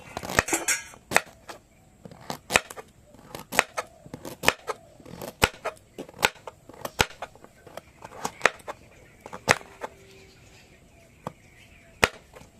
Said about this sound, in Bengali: সবগুলো গাজর আমি কেটে নিয়েছি এইভাবে ছোট ছোট করে